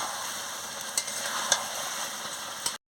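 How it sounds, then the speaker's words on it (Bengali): Chicken curry with ingredients cooked down in a pan, stirred with a spatula: steady close sizzling frying with a few sharp scraping clicks of the spatula against the pan, no voices. "ঢাকাটা খুলে আমি ভালো করে কষিয়ে নিচ্ছি।"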